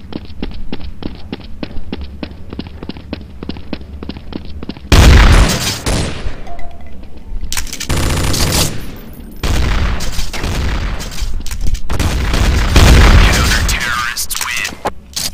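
Gunfire in a Counter-Strike: Source match, with a regular ticking rhythm giving way to loud, booming bursts of close shots and blasts, overlapping shouted game chatter from players.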